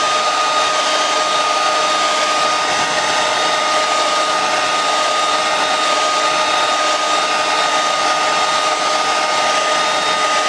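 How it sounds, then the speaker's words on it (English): A brand new hair dryer blows steadily while drying a car's paint in a shop, a loud continuous whooshing whine held close throughout with no talking. "I just hit it with the dryer."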